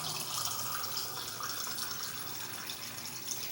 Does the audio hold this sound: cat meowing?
no